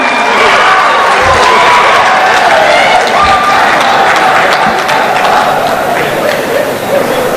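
Audience applause at an All India Urdu mushaira in Hyderabad, a dense, loud and continuous roar of many hands clapping, with a few cheers mixed in, filling the hall throughout.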